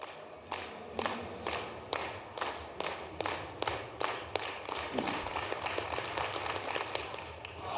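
A crowd at a high jump competition claps in unison for jumper KK: a steady rhythmic beat of sharp claps, roughly two per second, that quickens slightly toward the end.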